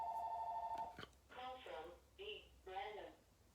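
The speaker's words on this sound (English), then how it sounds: "let's wait for that to stop ringing" A telephone gives a brief electronic ring at the start, a clear tonal burst that stops after about a second. A voice then speaks quietly over a faint background.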